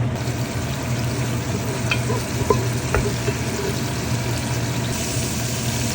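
Garlic frying in olive oil, a steady close hiss and sizzle with a low hum underneath and a couple of faint clicks, no one talking.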